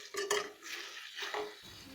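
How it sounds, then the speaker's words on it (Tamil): Fish gravy is turned in a cooking pan, giving quiet metallic scrapes and stirring clinks of a utensil against the pan in a few short strokes, with faint sizzling between them. "இது வந்து ஒரு சைடு வெந்திருக்கும், அப்படியே திருப்பி விட்டுக்கலாம்."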